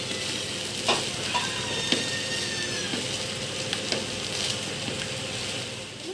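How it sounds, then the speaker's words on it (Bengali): Fried rice is stir-fried in a wok over high heat, giving a steady close sizzle with scraping stirs and a few sharper clinks of the spatula throughout. "হাই হিটে এটাকে নাড়াচাড়া করতে হবে"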